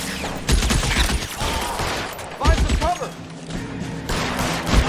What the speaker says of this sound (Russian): Стреляй в напарника, он крыса.